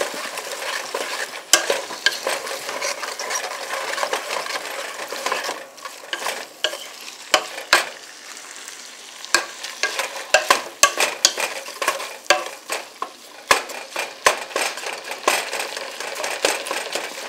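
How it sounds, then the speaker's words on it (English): Chicken sizzles and crackles in a hot pan over medium-high heat, with dense irregular pops and spatters running throughout, loud and close. "it took all the sizzle out of my pan"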